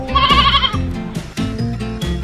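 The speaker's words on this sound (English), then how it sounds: "A sheep makes this sound." Sheep bleat in a few quick, wavering cries, close and clear, with a brief pause between calls and a slightly different voice joining near the end.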